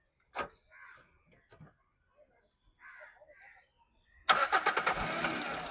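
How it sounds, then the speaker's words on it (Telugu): A 2011 Toyota Etios VX petrol car starts on a single crank, its engine catching abruptly and settling into a loud, steady run close by after a quiet stretch with scattered bird calls and distant talk. "సింగిల్ సెల్ఫ్లో బండి స్టార్ట్ అవుతుంది."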